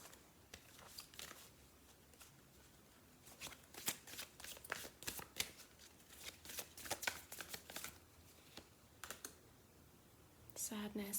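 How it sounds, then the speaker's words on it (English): Oracle cards being shuffled by hand in a quiet room, giving soft repeated riffling and flicking bursts at close range with no talking. "just going to pull you some oracle cards"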